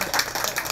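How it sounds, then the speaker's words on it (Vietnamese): Guests at a Vietnamese wedding ceremony giving a brief burst of applause, quick, dense clapping at moderate level, alone without talk. "một tràng pháo tay thật lớn cho bác nhá"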